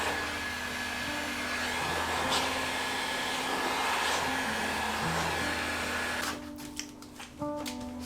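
A heat gun blowing hot air onto vinyl wrap film on a car fender, a steady, close whirring blower drone that cuts off near the end, followed by a few handling knocks.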